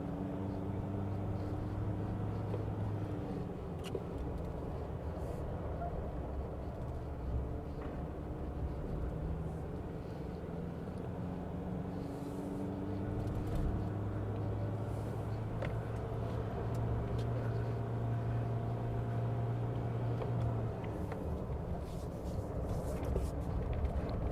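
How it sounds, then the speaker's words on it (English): A JMC Vigus Pro pickup truck labors uphill, its engine droning steadily with low, shifting tones that rise and fall as it strains, heard continuously from inside the cab. "It struggles a little bit when you're coming out of the corner."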